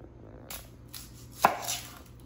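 A Cutco chef knife cuts straight through an onion in one sharp, close chop on a board, with a few softer knife and handling sounds around it in a quiet kitchen.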